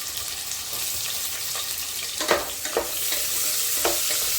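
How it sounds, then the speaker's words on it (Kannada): Chopped onions fry in hot oil with a bay leaf, cinnamon and cloves, a close, steady hiss and sizzle broken by a few brief stirring scrapes. "ಈರುಳ್ಳಿ ಚೆನ್ನಾಗಿ ಫ್ರೈ ಆಗಲಿ"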